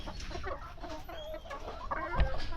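Chickens clucking inside a backyard coop, several birds close by with overlapping soft clucks and one sharper squawk near the end, no voices.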